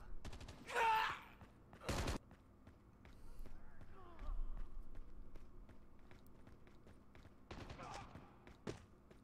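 Call of Duty Mobile gunfire cracks out in short sharp bursts, a quick volley early and another near the end, with footsteps and faint game sounds between.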